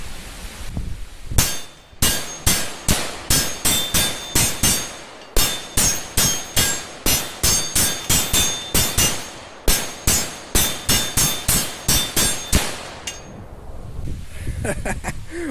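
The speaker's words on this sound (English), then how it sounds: "we're just going to see one more mag dump, full mag dump, and wreck this target" A PSA PTAC AR-15 rifle empties a full magazine at a target outdoors: around thirty sharp, loud shots fired close by in quick, fairly even bursts with short pauses between.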